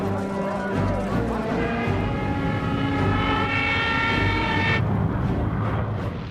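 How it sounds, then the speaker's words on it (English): World War II aircraft passing overhead southwest of the coast, a steady loud droning engine roar with layered tonal hum, sustained throughout before the higher tones abruptly cut away near the end. "Planes heard 3 miles southwest."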